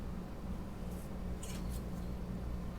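A polymer clay cane sliced in half with a blade, a few short soft cuts close by, heard over a steady low background hum.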